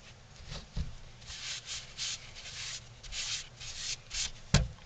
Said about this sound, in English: I'm going to take a little paste wax and I'll put wax on here.